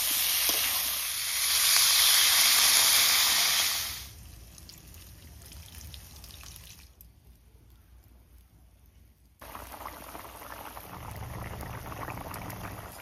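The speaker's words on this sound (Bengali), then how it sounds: "ঝোল ঢোল সব সুন্দরভাবে ফুটে উঠে সেদ্ধ হয়ে গেছে সবকিছু।" Fish curry broth with potatoes and cauliflower boiling in a pot gives a bubbling, hissing simmer close by. It is loud at first, then softens and dips low before bubbling back up steadily.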